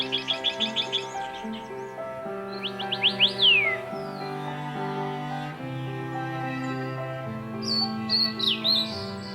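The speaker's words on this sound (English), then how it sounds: "Bird songs and calls are ways of transmitting their feelings." Forest birds in Taroko sing and call during mating season, with bursts of quick, high chirps and trills that come and go over sustained background music.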